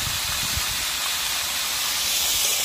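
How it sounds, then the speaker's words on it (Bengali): Bitter gourd and potato fry in oil while cooking on a boat, a loud, continuous hissing sizzle with a low rumbling underneath, close by and steady for the whole stretch. "এবার উচ্ছে আলু ভাজা হচ্ছে"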